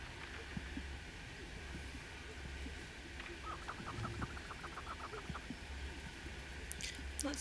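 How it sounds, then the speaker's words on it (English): Chickens cluck in a Hogwarts Legacy game world outdoors near a ravine, with short repeated clucks over a steady ambient bed at moderate distance. "Oh, there it is. Chickens."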